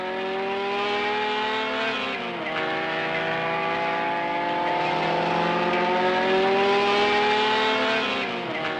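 Renault Alpine A210 race cars with 1300 cc Gordini engines scream along the circuit at Le Mans, a loud, high engine whine that dips briefly and then climbs steadily with no gaps.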